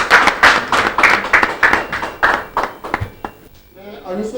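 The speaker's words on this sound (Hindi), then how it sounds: "तालियां बजाते रहे।" Audience applause at a Holi special program in Agra, a steady patter of many hands clapping loudly over several seconds, thinning out near the end, with voices mixed in beneath.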